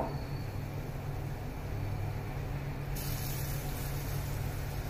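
Potato chops in a besan batter with black cumin frying in hot oil, a steady low hiss and crackle of bubbling oil that stays even and fairly faint throughout, with no talking.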